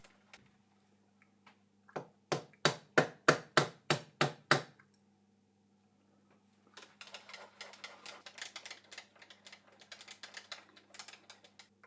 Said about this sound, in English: The most exact way to adjust the position of the workpiece is to tap it with a plastic hammer.